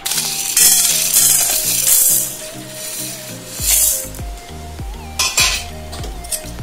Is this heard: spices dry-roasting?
yes